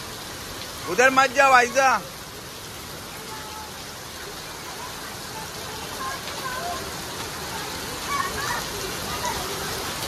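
Heavy monsoon rain pours in Mumbai as a steady, even hiss throughout; a person shouts briefly near the start, then the rainfall continues alone, with faint voices later.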